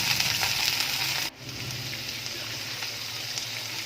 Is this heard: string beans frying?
yes